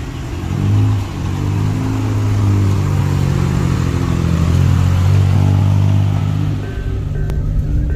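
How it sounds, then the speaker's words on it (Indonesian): A 2000 Suzuki Katana pulling away from Tugu Station in Yogyakarta, its engine humming and revving steadily close by through the gears, with a steady low drone throughout. "kami pun langsung membawa Suzuki Katana ini meninggalkan Stasiun Tugu Yogyakarta"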